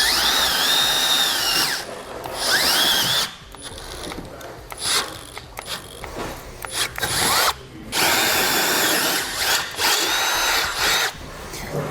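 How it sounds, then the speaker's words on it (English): A power drill bores a pilot hole, then larger holes, with drill bits for a Roadmaster Direct-Connect base plate on a 2014 vehicle, whining loud and close in several long runs with short pauses between. "I'm going to use a couple different drill bits. I'm going to start with a small one to do a pilot hole."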